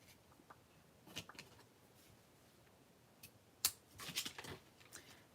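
Ribbon scissors snip through a strip of ribbon for a card in a small crafting setup, producing a few quiet, sharp cuts, the loudest cluster near the end, with no talking.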